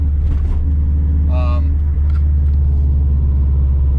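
A 2002 Subaru WRX, fitted with a swapped-in 2004 STI steering rack, makes a shakedown test drive. A loud, steady low engine rumble and road drone fill the cabin, and a brief tonal sound rises over it.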